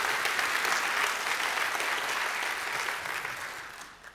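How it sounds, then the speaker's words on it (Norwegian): Sustained audience applause for the organizer at a panel event in Arendal Kulturhus during Arendalsuka, a dense wash of clapping that stays loud throughout and fades slightly near the end, with no voices over it. "Så vi skal gi arrangøren en skikkelig applaus her for dette fantastiske spennende arrangementet."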